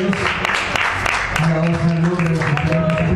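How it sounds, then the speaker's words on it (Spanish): Congregation applause during an evening church praise and worship service, many hands clapping at close range for a few seconds, mixed with voices and held musical tones. "gloria a dios gracias aplausos a nuestro"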